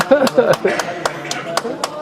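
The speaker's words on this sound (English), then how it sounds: "Who's clapping?" A single person clapping during a council meeting vote on a local plan, a handful of sharp, evenly spaced claps ringing out in a quiet chamber while a voice talks over them.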